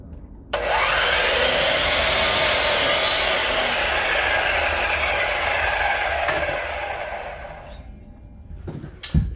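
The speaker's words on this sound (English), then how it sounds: "I'm just going to cut our horizontal pieces" A power saw cuts horizontal wooden board and batten pieces, a loud continuous whine that starts abruptly, holds steady for about seven seconds, then tapers off as the cut finishes.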